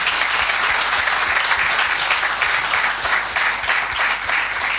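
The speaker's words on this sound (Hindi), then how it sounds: "मैं कहूँगा कि उनके लिए एक बार जोर से ताली बजाई जाए" Steady, loud applause from a large crowd at a talk on nation building at a management institute, sustained throughout with dense, even clapping.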